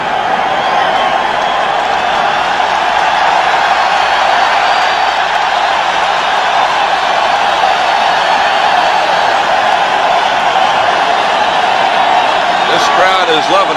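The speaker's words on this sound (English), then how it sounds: "This crowd is loving it." A football stadium crowd at a 1985 NFC divisional playoff game between the New York Giants and Chicago Bears roars and cheers steadily as a loud, sustained wash of noise with no breaks.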